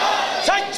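A crowd at an urs gathering in a shrine setting calls out religious slogans in unison, producing a loud, echoing, massed shout that rises and falls over less than a second, with no single voice standing apart.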